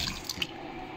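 Sliced potatoes going into a pot of hot water, a brief splashy rush of water for about a second, close and steady, with a couple of small plops near the start.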